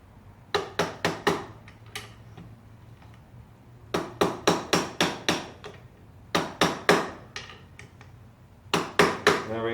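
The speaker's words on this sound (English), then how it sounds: "Now I'm just bending the tabs back over on the lock washer." Lock washer tabs being bent over on the clutch of a 1985 Honda CR250, heard as sharp metallic taps struck in quick clusters of four or five, close and crisp with pauses between groups.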